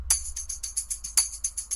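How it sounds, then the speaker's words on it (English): A percussion tambourine loop plays bright, evenly spaced jingle hits in a quick repeating rhythm, with an occasional stronger accent, faint and alone. "I have this like percussion tambourine loop."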